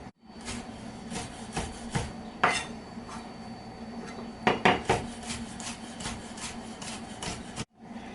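A knife cutting shrimp open lengthwise on a cutting board: close scraping and tapping strokes with a few sharper knocks of the blade against the board, no talking.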